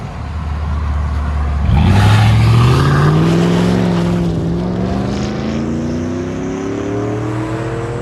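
A Chevy Silverado's 5.3L V8 with a Vibrant glass pack exhaust, duals to 5-inch tips, rumbles steadily at idle, with a brief swell in the first seconds before settling into a low, even drone.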